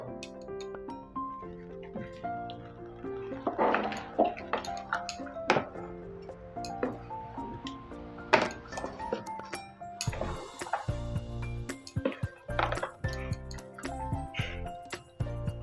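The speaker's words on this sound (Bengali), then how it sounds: "আমের পিউরি হয়ে গেছে, এটাও মিশিয়ে দিচ্ছি।" Mango puree being stirred into oats in a bowl, a close, quiet series of spoon clinks and scrapes against the dish in an uneven rhythm, with soft wet mixing sounds.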